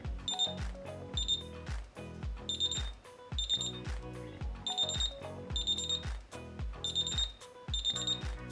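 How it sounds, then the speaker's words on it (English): SonoAlti skydiving audible altimeter sounding its speed tracker, repeating patterns of bright electronic beeps in quick clustered bursts at a steady rhythm, close and clear with no talking. "this is a series of beeps that will tell you whenever your speed is changing"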